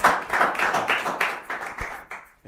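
A small audience claps after a speech on propaganda, a handful of distinct bursts of hand claps that thin out and stop within a couple of seconds.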